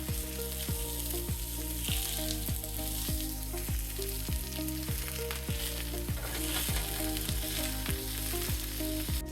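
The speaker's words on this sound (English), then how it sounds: "I am sauteing my all the vegetables at a low flame." Frozen broccoli and mixed vegetables saute over a low flame in a well-heated pan for vegan pasta, a steady close sizzle with faint regular ticking running throughout.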